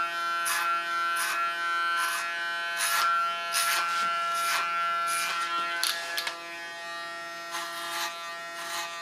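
Electric hair clipper buzzing steadily while cutting short hair on a side-shave style, with a constant whine broken by repeated brief bursts of hair being cut.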